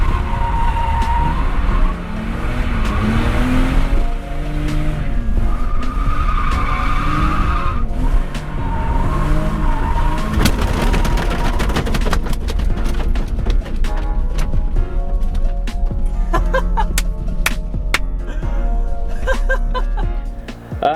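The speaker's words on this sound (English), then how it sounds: "I actually blew this side of the bumper clean off when I blew a tire, banging off second gear limiter around a corner" A BMW E46 cornering hard in second gear, tires screeching and skidding as the engine bangs off the rev limiter and a tire blows, loud and sustained with stuttering engine pulses and rattling impacts.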